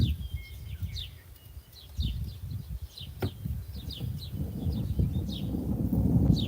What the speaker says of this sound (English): I don't know if you guys can hear the thunder here